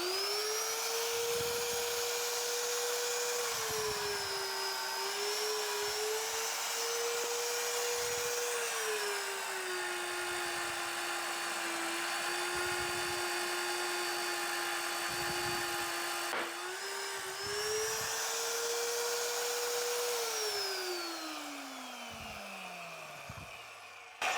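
A Vevor magnetic drill with an annular cutter bores a 20 mm hole through 1-inch-thick solid steel. Its motor hums steadily with a bending pitch as it loads and unloads, with rhythmic knocks of the cutter, then winds down at the end.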